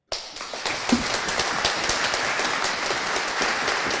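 An audience at a debate breaks into sustained applause, dense clapping starting abruptly and continuing steadily without talk.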